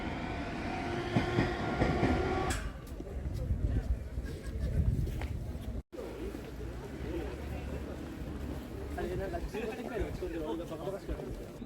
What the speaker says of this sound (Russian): Вот сейчас поезд пройдет, перейдем дорогу.